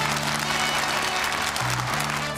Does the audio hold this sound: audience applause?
yes